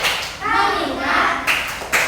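Young pupils in a classroom chant together in a short attention-getting routine, followed by two quick bursts of hand claps near the end, close and clear against the fading voices.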